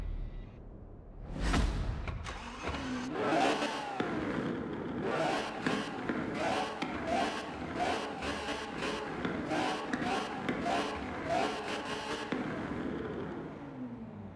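A V12 car engine in Forza Horizon 4 starts with a sharp burst, then revs repeatedly in rising and falling surges, loud and close throughout.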